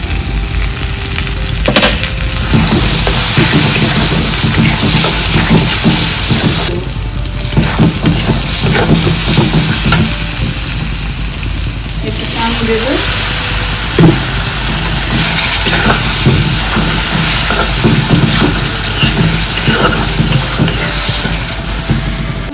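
Steady sizzling of a paneer biryani masala with Kashmiri chilli powder frying in a pan, with scattered scraping and clinking from stirring throughout, no talking.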